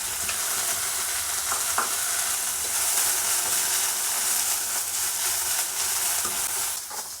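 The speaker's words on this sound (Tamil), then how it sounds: "இப்போ கொத்தமல்லி போட்டு நல்லா வதக்கிக்கலாம்." Coriander leaves sautéing in a lightly oiled pan hiss in a continuous, close, fairly loud sizzle, with occasional faint stirring clicks and no voices.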